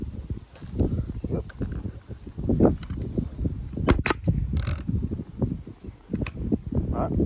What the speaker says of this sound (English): This is a staple gun. We use it so we can put in the staples.